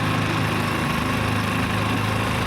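Small Jet Turbo two-stroke engine on a motorized bicycle, fitted with a silencer, runs steadily close by with a continuous buzzing drone and even pulsing, no one talking.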